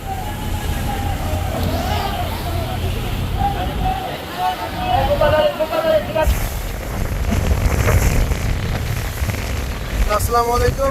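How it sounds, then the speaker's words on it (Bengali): A strong Nor'wester storm wind roars across the river around the launch MV Doyel Pakhi-10, a dense, continuous rush with water sloshing and gusts buffeting the microphone, and muffled voices mixed in. "এখন নদীতে প্রচণ্ড ঝড় বাতাস বইতেছে"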